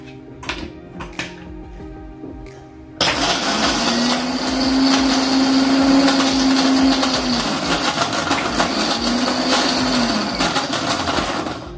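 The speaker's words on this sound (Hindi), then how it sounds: "ये आइस क्यूब्स हैं, ये मैं अब इसको मिक्सी में डाल के क्रश करूंगी" A few light clicks, then a blender roars to life, crushing ice cubes loudly and steadily with its pitch rising and dipping as the contents churn.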